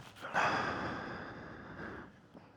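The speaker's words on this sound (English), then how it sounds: "Is that you breathing so heavy?" Heavy breathing from a person out on a mountain road during a winter storm, a breathy exhale swelling up early then trailing off over a couple of seconds, fairly close.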